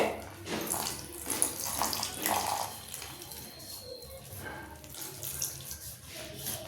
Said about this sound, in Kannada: ನೀರು ಹಾಕಿ ಸ್ವಲ್ಪನೇ ಕಲಿಸ್ತಾ ನೀರು ಹಾಕ್ಕೊತ ಬನ್ನಿ